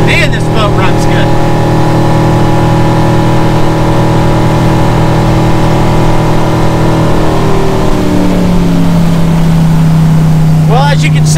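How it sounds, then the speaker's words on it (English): A 2009 Chaparral 236 SSX motorboat running on the water, its engine a loud, steady drone whose pitch shifts downward partway through as it settles, with brief talking heard at the start and end. "Trim up, see what we can do. Man, this boat runs good."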